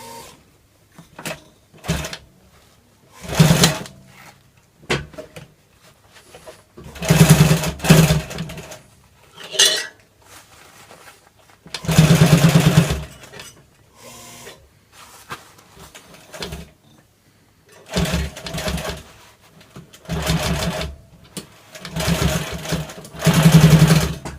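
A sewing machine with a 1 horsepower motor stitches binding onto a thick pouch, running in loud repeated bursts of rapid stitching separated by short pauses and quieter handling sounds.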